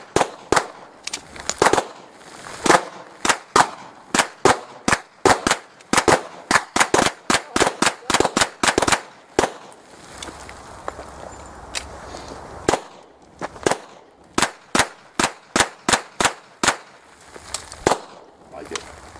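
Dozens of sharp outdoor gunshots fired at bullet resistant glass, loud cracks coming in quick irregular strings and short volleys with brief pauses between groups.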